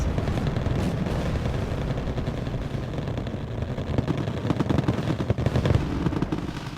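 Wargame Red Dragon battle gunfire, a dense continuous rattle of automatic weapons and distant blasts that thickens into heavier bursts near the end, with no voices.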